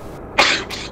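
A single close sneeze bursts out sharply, trailing into a second, softer breathy gust, all within a moment.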